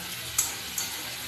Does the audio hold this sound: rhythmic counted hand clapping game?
no